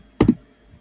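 A short burst of two quick keystrokes on a computer keyboard while entering a value in roof modelling software, close and clear, followed by near silence with a faint tap at the end.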